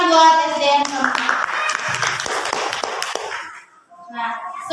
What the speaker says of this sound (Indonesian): Tepuk tangan buat SDN Kamungan.